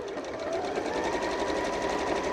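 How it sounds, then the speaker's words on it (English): A Janome QDC5270 sewing machine stitches fabric with a steady, close, fast mechanical whirr and rapid needle chatter that runs evenly throughout, with no talk. "and then simply start stitching"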